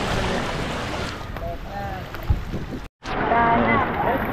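A boat motor churns through floodwater in Tanza, Navotas, a steady close drone mixed with wind and splashing water, cut by a brief dropout near the end.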